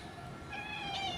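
A house cat watching a pigeon lets out one short, rising meow. The sound is soft and close in a quiet indoor space.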